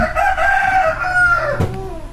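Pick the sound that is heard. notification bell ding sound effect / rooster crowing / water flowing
rooster crowing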